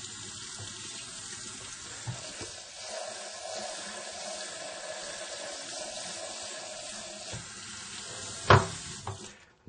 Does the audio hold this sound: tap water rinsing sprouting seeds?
yes